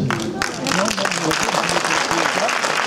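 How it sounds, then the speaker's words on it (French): A cinema audience at a film premiere at the UGC Ciné Cité Rosny claps in loud, close, dense applause, with voices and a few cheers mixed in throughout. "Vous pouvez applaudir si ça va passer vite."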